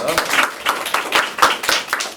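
A studio audience at a debate show on AI judgment claps in a short burst, irregular rhythmic handclaps mixed with talking close by.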